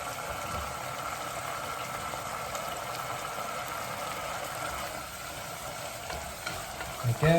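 Mushrooms frying in a risotto pan while being constantly stirred, a steady close sizzle with scraping stir sounds running throughout, no talking.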